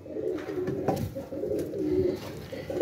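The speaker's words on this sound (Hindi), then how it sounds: "हमने अपने कबूतर खोल दिए रात टाइम भी" Pigeons cooing at night in full darkness after release from their loft, soft repeated low coos close by, with a faint background hum.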